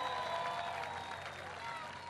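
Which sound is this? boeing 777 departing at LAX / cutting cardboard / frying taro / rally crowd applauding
rally crowd applauding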